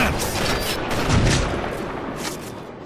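Rapid bursts of gunfire in an online shooter video game, dense and loud, rolling together into a continuous volley with no talking.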